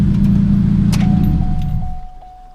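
2006 Chevrolet Cobalt SS engine idling roughly, then cutting off after about two seconds, the rumble fading to quiet while a thin steady chime rings on.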